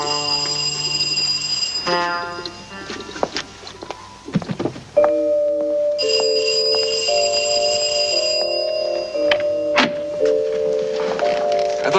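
A doorbell chimes at a house entrance, a series of clear ringing bell tones repeating through the clip, close and fairly loud, with a sustained electronic ring in the latter half.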